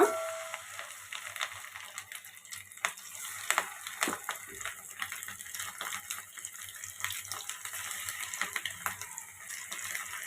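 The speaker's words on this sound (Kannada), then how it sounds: "ಪ್ರಾನ್ಸ್ನ ಫ್ರೈ ಮಾಡ್ಕೊಳ್ಳೋದಕ್ಕೆ ಎಣ್ಣೆ ಬಿಸಿಗೆ ಇಟ್ಕೊಂಡಿದ್ದೀನಿ. ಈಗ ಒಂದೊಂದೇ ಪ್ರಾನ್ಸ್ನ ಹಾಕ್ಕೊಳ್ಳೋಣ." Prawns dropped one at a time into hot oil, sizzling and crackling steadily at close range with brief louder pops, no voices.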